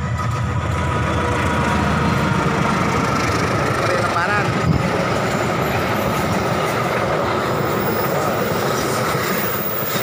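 Passenger train KA Lodaya on the Bandung–Solo Balapan route passing Cicalengka station, a loud, steady roar of rolling wheels and carriages heard close by for the whole stretch, with faint squeals above it.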